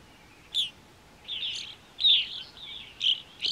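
Evening grosbeaks call at a feeder in short, clear, high chirps, about five separate calls spaced over a few seconds against a quiet background.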